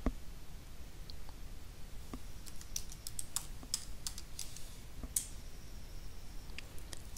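Passphrase keys tapped on a computer keyboard during macOS setup, a sparse run of quiet, irregular clicks over a low background hum, with no talking.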